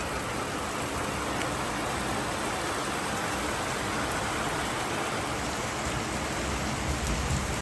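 A torrential monsoon-style downpour drums continuously in a thick, loud, even roar of rain striking the ground and nearby surfaces, unbroken from start to finish, with no voices.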